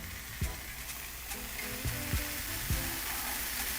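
Flour wraps topped with cheese toast in a hot skillet, giving a quiet, steady sizzle with a few soft scraping taps of a utensil.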